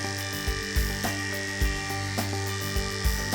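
Adjustable hair clipper in the closed position cutting a man's dry to semi-damp hair against the grain: a close, steady electric buzz broken by soft rhythmic thumps as it moves, with no talk.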